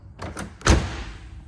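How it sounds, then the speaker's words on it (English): A heavy door on a 1989 Camaro RS with an LS1 swap slams shut once with a solid thunk, preceded by faint clicks of the latch and handle. "You got to slam the hell out of these doors too."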